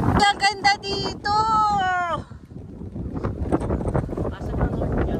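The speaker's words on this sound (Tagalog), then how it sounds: "Ang hangin." Wind gusts outdoors at Little Baguio Eco Park in Sta. Maria, Laguna, rushing and buffeting the microphone as a steady broadband roar, with voices, including a high, child-like one, talking over it at the start.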